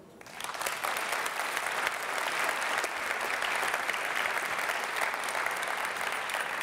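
A large audience applauds Archbishop Desmond Tutu at a panel discussion, steady, dense clapping that swells in quickly and holds loud throughout.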